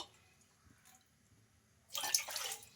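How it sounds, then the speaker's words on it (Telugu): Water poured into a kadai on the stove, a short splashing gush in the last second after near silence, fairly close, with no voices. "అందులోకి ఒక 2 కప్పుల దాకా వాటర్‌నైతే వేసుకోవాలి"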